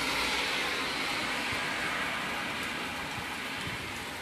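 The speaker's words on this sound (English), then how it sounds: "Oh, it's raining in here." Steady, close rain falls indoors from a leak in a house, a dense, even hiss that runs unbroken throughout with no voices.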